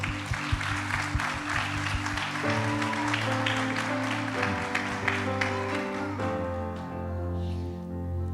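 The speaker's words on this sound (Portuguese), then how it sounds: "Vamos aplaudir ao Senhor" A church congregation claps during a worship service, a steady patter of hands running under sustained keyboard or organ chords that carry on throughout.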